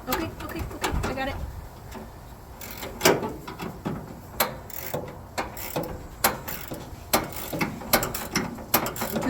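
A ratchet wrench clicks in quick bursts during repair work on a 1975 Chevy C50 truck, sharp close ratcheting spread across the stretch with people talking in between.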